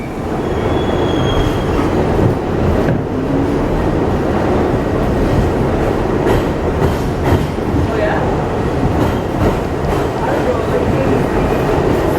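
A New York City subway train rumbles loud and close at a station, its wheels clattering and squealing in a continuous dense roar.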